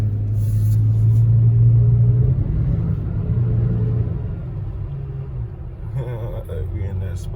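Nissan Titan pickup engine in sport mode, a deep low rumble that swells early and then settles into a steady idle-like drone, with voices chatting over it near the end.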